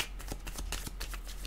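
Tarot cards being shuffled in the hands, a close, papery riffling rustle with quick flicks and soft slaps running steadily for a moment with no talking.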